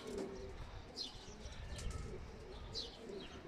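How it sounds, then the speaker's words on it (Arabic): Quiet outdoor ambience at a pigeon loft with racing pigeons returning from a 520 km race, cooing softly and a few light chirps scattered throughout, no voices. "الحمام راه ما كيدخلش"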